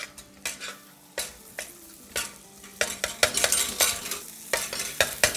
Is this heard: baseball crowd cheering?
no